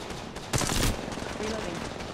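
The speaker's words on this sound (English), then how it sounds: "Opening fire." Automatic weapon fire from Apex Legends Mobile, a short loud burst of rapid shots in the middle of the moment, with game ambience before and after.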